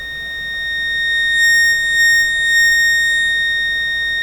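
A distorted sine-wave test tone from an APHEX Tubessence model 107 stereo mic mixer, a loud steady electronic whine with harsh high overtones that swell slightly midway and hold throughout.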